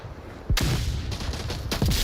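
Gunfire and a blast ring out in the VR shooter Onward, close and loud. A burst of shots opens with a heavy hit, and more bursts follow in quick succession.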